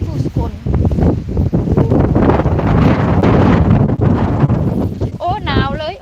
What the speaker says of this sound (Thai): ลมแรงมากเลยครับพี่น้อง